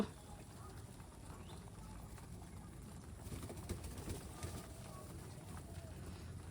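Giribaz pigeons in a Rajshahi loft give soft cooing and faint flutters and shuffling over a steady low background rumble, fairly quiet and continuous with no one speaking.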